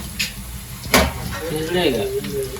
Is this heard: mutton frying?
yes